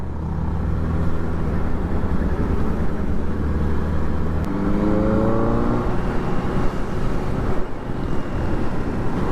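Benelli TNT motorcycle, a stock-exhaust 600i or 302s, heard on a test ride in Dagupan, Pangasinan: a steady engine drone buried under heavy wind rush, with a rising pitch partway through as it accelerates.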